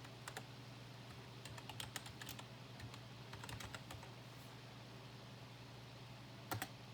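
Someone types a password on a computer keyboard, with soft, close key clicks in short irregular bursts and a final louder double tap over a low steady hum.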